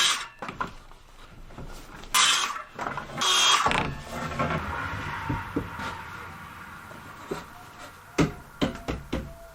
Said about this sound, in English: Putting the wood on the studs, screwing them in, just making sure they're nice and straight.